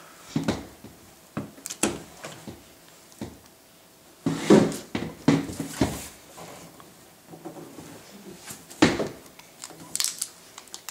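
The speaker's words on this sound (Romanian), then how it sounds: "Așa, tu trage de scotch-ul ăsta." Scotch tape is pulled and torn from a roll during a children's drawing game, a run of sharp, uneven ripping and crackling bursts at close range with short quiet gaps between them.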